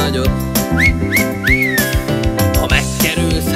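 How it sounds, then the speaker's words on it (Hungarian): Loud human whistling rises in short upward glides over upbeat backing music in a Hungarian children's song, with several whistled phrases repeating rhythmically. "Megkerülsz, hát füttyencs jó nagyot."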